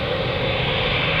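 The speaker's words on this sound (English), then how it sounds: "It's a Qatar Airways 789 Dreamliner," A Qatar Airways Boeing 787-9 Dreamliner jet at Manchester Airport gives a brief burst of steady, loud engine roar without any voices.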